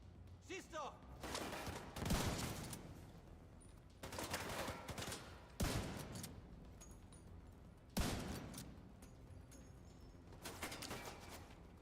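Bursts of gunfire in The Division 2, a few loud volleys spaced several seconds apart with quieter game noise between, recorded faintly.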